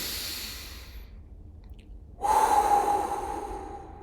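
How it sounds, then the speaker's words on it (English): A single deep breath: a soft intake of air, a short pause of near silence, then a louder, closer exhale with a faint whistling hiss that trails off, alone with no talk. "We're going to take a deep breath."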